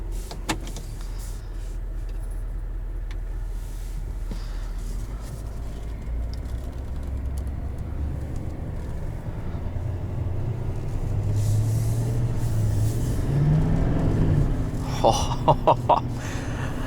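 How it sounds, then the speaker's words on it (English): A 2020 GMC Sierra 3500HD Denali diesel pickup drives along with a steady low engine drone and road rumble, which builds as the truck pulls harder, plus a few brief clicks near the end. "I've never driven a diesel that just throws you back as hard as this one does."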